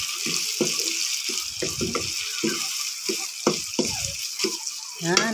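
Tomatoes sauté and get stirred in a pan, a hissing sizzle broken by short scraping, clattering stirs at an irregular pace, all up close and fairly loud.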